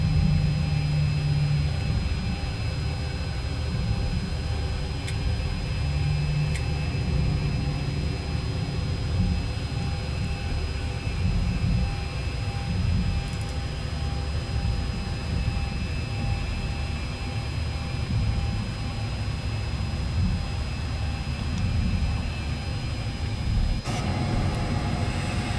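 An Avianca Boeing 737-800 taxiing at Cartagena airport, heard as a steady, loud engine rumble and hiss with a constant whine, unbroken throughout.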